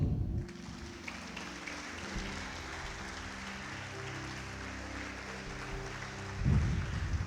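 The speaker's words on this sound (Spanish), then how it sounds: "Dele un aplauso al Señor." A church congregation applauds during a Spanish-language worship service, with steady, sustained clapping spread across the room over a low, droning musical backing that swells near the end.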